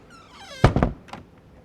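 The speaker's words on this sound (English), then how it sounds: "I'll just close this door behind me." A door pulled shut nearby, a single solid thunk with a short rattle after, preceded by a faint creak, and no voices.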